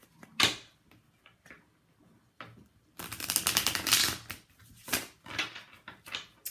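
A tarot deck being shuffled at close range: a few soft taps and handling sounds, then a longer burst of rapid riffling cards and several more quick shuffles, with no talking.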